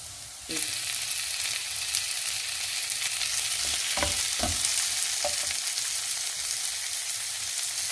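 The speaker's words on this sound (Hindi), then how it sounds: "प्याज जब इतने फ्राई हो जाएंगे तो इसमें हम टमाटर डाल देंगे" Onions and tomatoes fry in hot oil for a beef curry, a steady dense sizzle that starts abruptly, with a few soft stirring knocks near the middle.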